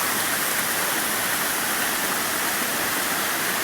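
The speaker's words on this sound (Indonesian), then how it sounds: "air terjun." Batulantang waterfall near Sulangai, a loud constant rushing roar of falling water, close and steady with no talk over it.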